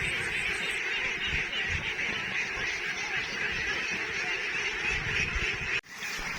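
A flock of two-month-old domestic ducks quacks and honks continuously at a moderate distance in an outdoor pasture, a dense overlapping chatter that runs without pause.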